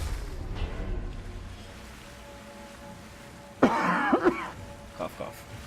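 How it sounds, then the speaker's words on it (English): A man coughs and clears his throat in a short burst partway through, loud and close, amid quiet background with other faint noises. "Cough, cough."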